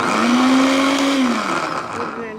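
A blender chopping cooked shami kebab mixture whirs loudly with a steady motor hum that dips in pitch after about a second, then keeps running more unevenly.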